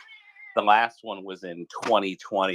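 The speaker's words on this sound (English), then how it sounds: "you have to excuse my cat with the large mouth" A house cat meows close by, a short drawn-out call at the start followed by more meow-like cries mixed under a person talking steadily.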